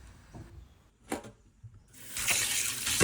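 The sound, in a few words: water washing ingredients for dried fish shira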